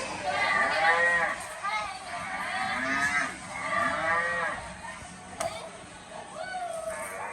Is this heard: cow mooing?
yes